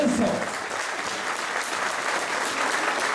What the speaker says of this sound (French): Applaudissements pour North Peters, Arjanevitz et Léo Vincent.